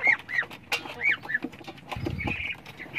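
Native chickens and roosters in a backyard pen, a flock of eight roosters among them: repeated clucks and short calls near and far, with a brief low thump of movement partway through.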